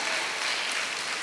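Audience applause at a Tamil talk honouring everyday heroes such as teachers, a dense steady wash of many hands clapping together for just over a second, continuous and fairly loud with no speech.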